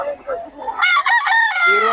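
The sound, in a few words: rooster crowing, chickens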